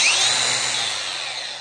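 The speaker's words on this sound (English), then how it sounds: "I suppose I could grind a piece of metal here" An angle grinder fitted with a 120-grit flap disc grinds a piece of metal, a loud, close, sustained high-pitched whir that slowly eases in intensity over the short stretch.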